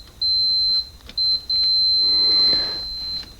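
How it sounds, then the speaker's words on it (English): A high electronic beep from a continuity tester checking a wire in a Classic Mini sounds in short bursts, then holds steadily for over a second, loud and close, with a faint rustle underneath. "should hopefully hear that beep."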